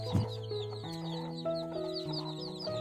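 Newly hatched local chicks cheep softly in a nest beside a brooding hen, with a few low hen clucks and steady overlapping peeps close by, no talking.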